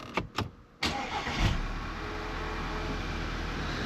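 An Audi A4 Avant engine turns over with a few brief cranking bursts, catches and fires up, then settles into a steady low idle, close and even, with no talking.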